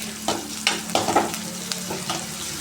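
Ingredients for drumstick leaf saaru fry in a pan with a steady, close sizzle, punctuated by several scraping stirs of a spoon against the pan.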